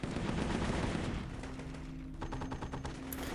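Gunfire in the video game Warfare: rapid bursts of automatic shots, loud at first and continuing as quieter repeated cracks over a low battle rumble.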